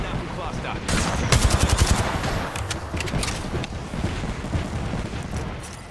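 Gunfire in the video game Apex Legends, a fast burst of automatic shots followed by scattered further shots and a roaring, explosive wash, with a player's voice talking over it.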